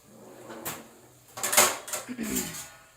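Metal lid placed on a cooking pot in a home kitchen, giving a few light clinks and clattering knocks, the loudest near the middle, with faint background noise around them.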